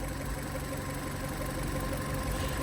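A Fiat 500's engine runs steadily nearby, a continuous even hum with a faint rhythmic idle pulse and no voices over it.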